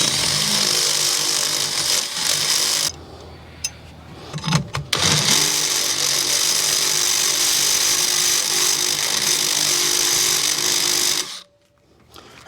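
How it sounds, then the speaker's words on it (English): Step drill bit enlarging a hole in sheet metal to fit a rivet nut, a loud whining power-drill run with a pause and brief scraping clatter partway, then a long sustained drilling burst that cuts off near the end. "Let's just drill this out a little bit more."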